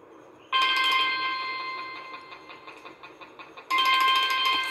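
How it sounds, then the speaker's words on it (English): An automatic school bell sounds its fourth bell pattern, a loud, steady electronic ringing tone that starts abruptly, pulses through a softer middle stretch, then swells back to full strength near the end. "Now we are going for the fourth bell."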